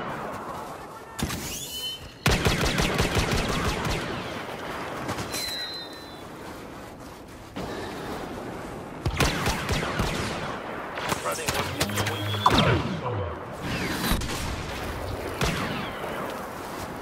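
Blaster fire in Star Wars Battlefront's heroes versus villains mode crackles in rapid bursts and volleys over about seventeen seconds, loud and near, mixed with game voices.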